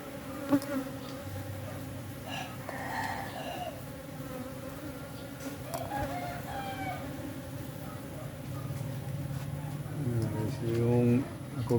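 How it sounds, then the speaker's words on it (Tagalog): A large swarm of insects on a flowering plant gives a close, steady buzzing hum, with a rooster crowing and someone talking over it throughout. "ngayon ko pa nakita itong mga insekto na ito"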